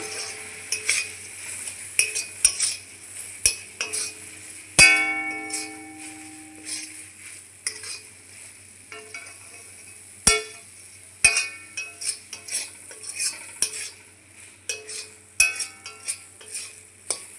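Papaya sweet mixture with chaar magaj seeds being stirred in a wok: intermittent scraping and metallic clinks of a spoon against the pan, one ringing clang early on, over a faint background sizzle, no talk.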